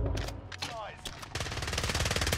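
A full-auto Streetsweeper shotgun in Warzone fires stopping power rounds, a few loud separate blasts followed by a rapid, steady burst of shots, with a voice briefly audible early on.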